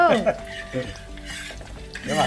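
Venison pieces for pickle frying in a pan while being stirred, with scraping utensil clicks and a soft sizzle over a steady low hum; brief tonal background music sits underneath.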